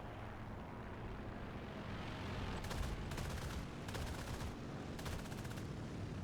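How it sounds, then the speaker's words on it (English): Cannon and machine gun fire from a fighter plane in the video game War Thunder, four short rapid bursts of rattling shots over a steady engine drone, fairly faint, with no talk. "Oh my god, I already ran out of cannon rounds."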